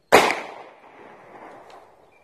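A single sharp pistol shot from a SCCY CPX2 fired at a shaving cream can outdoors cracks loudly, then decays into a long echoing tail with no voices.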